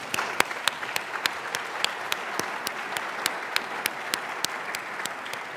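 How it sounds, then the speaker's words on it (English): University audience at a state-of-the-university address applauds to welcome new faculty and staff, giving steady, evenly paced claps over a continuous wash of crowd clapping, moderately loud with no talk. "Let's give them a round of applause."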